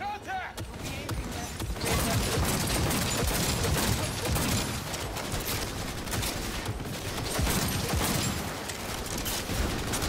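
Automated turret in Cyberpunk 2077 firing sustained, loud bursts of gunfire that run nearly continuously, dense and close, with game voices shouting over the shooting.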